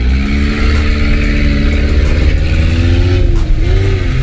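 A Suzuki 4x4 accelerates hard in an informal race: a loud, close engine roars steadily throughout, its pitch holding and rising slightly as it pulls away.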